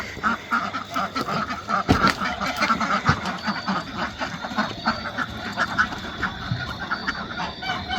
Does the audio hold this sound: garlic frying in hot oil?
no